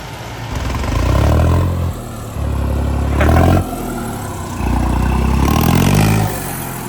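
A modified 3630 tractor engine runs near and loud, revving up in three long surges with drops to a lower idle between them, alone without voices.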